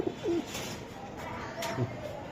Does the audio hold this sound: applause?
no